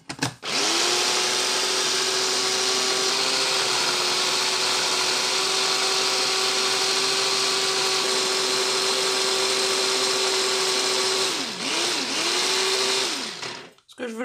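An electric food chopper or blender whirs steadily at a loud, constant pitch while blending pili pili sauce, then winds down and pulses briefly in short bursts near the end.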